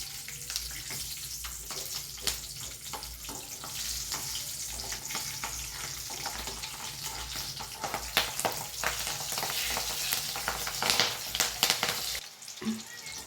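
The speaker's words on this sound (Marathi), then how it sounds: "मिरची तळून झालेली आहे ही भाज्याच्या प्लेटमध्ये काढून द्यायची आहे" Green chillies fry in hot oil beside a batch of spinach bhaji, a loud, dense sizzle with bubbling and stirring throughout that drops off abruptly near the end.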